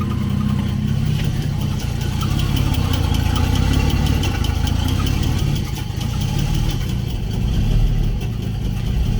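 A turbocharged 3800 V6 swapped into a Pontiac Fiero runs rough on a cold start, a steady loud low idle with an uneven knocking pulse throughout, close by and with no talk.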